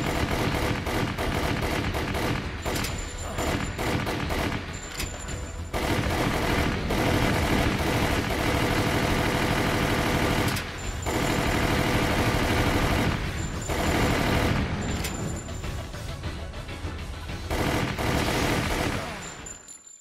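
Gunfire from Resident Evil: The Umbrella Chronicles on PS3, loud sustained bursts of rapid automatic shots with brief pauses between volleys, booming and close.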